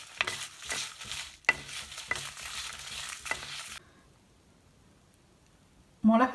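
Scraping and stirring sounds as chilies dry-roast in a pan without oil, with light crackling and spoon knocks, then a quiet pause before a brief clatter at the end.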